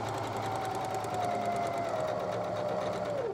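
Sewing machine stitching steadily along the edge of fabric while making a boho cuff and fat quarter napkins, a continuous close, even mechanical whir with a faint tone underneath and no break for the whole stretch.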